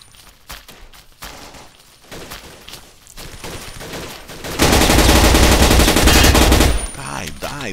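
AK-47 fire in the video game Blockade 3D: scattered single shots and short bursts, then a loud sustained automatic volley for about two seconds before fading.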